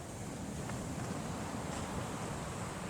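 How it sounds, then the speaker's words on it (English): Ocean waves breaking gently along the shore at Vero Beach, Florida, a faint, steady wash of surf with soft wind noise and no distinct crashes. "The breaking waves along the shore were not that bad"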